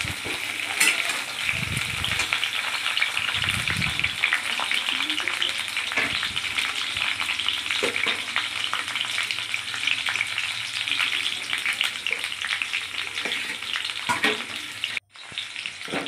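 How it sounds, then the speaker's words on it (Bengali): Chicken stew frying in a pan and being stirred, a steady sizzle running throughout with occasional scraping stir strokes and a brief clink near the end. "এবার ঢাকা সরিয়ে একটু নাড়াচাড়া করে নিলাম।"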